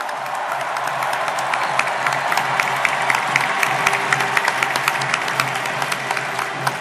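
A crowd at a South Korean presidential primary acceptance event applauds warmly and steadily, dense clapping sustained throughout with scattered cheers on top, close and full.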